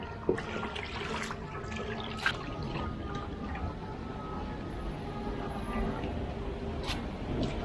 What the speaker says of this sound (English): So we're just washing the chromic acid off.